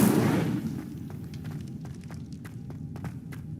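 An Incendio fire spell cast in the Hogwarts Legacy video game opens with a loud whooshing burst that quickly fades into a low rumble, followed by a steady run of soft, evenly spaced footsteps.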